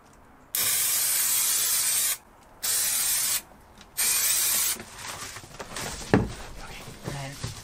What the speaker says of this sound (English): we're going to use spray adhesive as well to try and make it as taut as possible in the middle